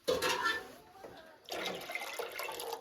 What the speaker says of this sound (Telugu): నేను ఒక 2 లోటాలు వాటర్ అనేది వేస్తున్నాను.